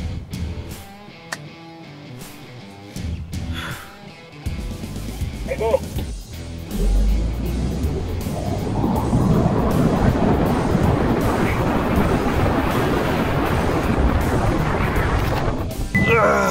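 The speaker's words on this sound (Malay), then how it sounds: "sekarang ni dia suruh saya pecut dan langgar je kereta depan tu tanpa tekan brake" An Isuzu D-Max X-Terrain 2022 pickup accelerates hard toward a car ahead and brakes by itself, a rising roar of engine, road and wind noise that builds steadily and stays loud, after a quiet start with scattered knocks.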